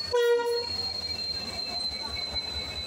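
The 12665 Howrah–Kanniyakumari SF Express stands at a platform, its horn sounding briefly and loudly at the start before a long, steady high wheel squeal rings over low rail rumble.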